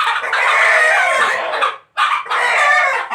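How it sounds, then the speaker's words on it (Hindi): A Black Australorp rooster crows loudly and close by, two long strained calls separated by a brief pause. "देखिए मुर्गा"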